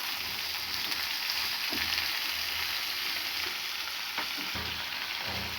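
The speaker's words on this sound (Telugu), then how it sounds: "పచ్చి స్మెల్ పోయినంత వరకు వేయించుకోవాలి దోసకాయ ముక్కల్ని" Cucumber pieces for dosakaya pachadi fry in a pan, giving a soft, even crackling sizzle with a couple of faint spatula knocks against the pan.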